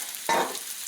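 Mushrooms sautéing in olive oil in a pan, prepared for a pot roast; a steady soft sizzle with one brief louder stir or toss near the start, no talking.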